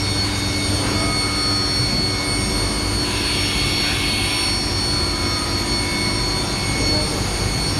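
A 4-axis CNC machine with a rotary axis mills solid aluminum blocks into throttle bodies, giving a loud, steady, high-pitched whine with a constant roar of coolant spray that does not let up.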